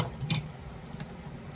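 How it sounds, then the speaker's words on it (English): Water pours into a pan for a balsamic fig glaze, a short steady splashing pour that runs alone for about a second and a half. "And we're going to add 1/2 cup of water."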